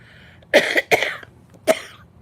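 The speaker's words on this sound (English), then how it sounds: "I'm still feeling like coughing." Three sharp coughs, two close together then a third after a short pause, loud and close with no talking.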